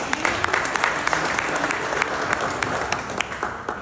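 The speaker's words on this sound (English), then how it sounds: "Give yourselves a round of applause" Dense, steady applause from an audience at a school district meeting, filling the whole few seconds at a moderate, even level with no speech on top.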